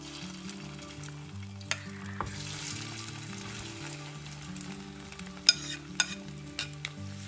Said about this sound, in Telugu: ఆయిల్ వేడయ్యాక మనం కలుపుకున్న మీల్ మేకర్ని దీనిలో వేసి